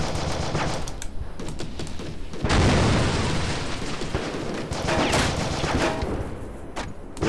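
Heavy Fire Afghanistan combat with loud, sustained bursts of automatic gunfire and booming blasts, packed close together and surging louder partway through, with no talking.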